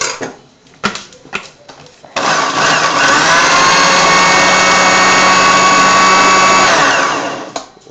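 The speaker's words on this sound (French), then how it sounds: "on met un petit dernier coup de mixeur" An electric blender whirs loudly while mixing a homemade bird food mash. A few clattering knocks come first, then a steady, close high-pitched roar runs unbroken for about five seconds and stops, with no talking.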